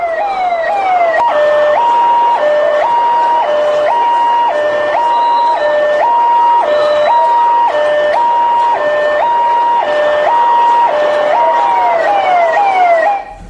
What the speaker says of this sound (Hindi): एम्बुलेंस को रास्ता दिया गया, फौरन इस भीड़ ने रास्ता दिया और फौरन एम्बुलेंस गुजरी है।